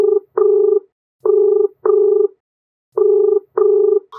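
An unanswered outgoing phone call rings back in three paired bursts of a clear steady tone, each pair separated by silence, loud and close with no talk.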